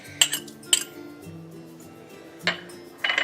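A fork clinks against a small bowl while mixing graham cracker crumbs with brown sugar: four sharp metallic taps, two close together, a pause, then two more, with soft scraping between.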